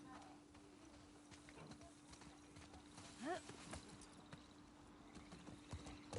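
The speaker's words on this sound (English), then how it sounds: "Let's get on the horse." Horse hooves clip-clop faintly in The Last of Us Part II, a soft steady trotting patter with a brief whinny-like sweep midway, distant and low beneath quiet game ambience.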